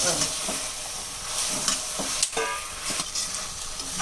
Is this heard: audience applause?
no